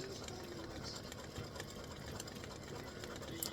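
Embroidery machine stitching a Christmas design in gold thread, a faint, steady, rapid mechanical chatter running throughout with slight irregular knocks.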